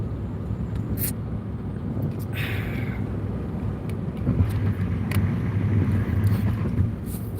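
A car rumbles steadily on a country road, with low, continuous engine and road noise mixed with wind buffeting the microphone and a few faint clicks.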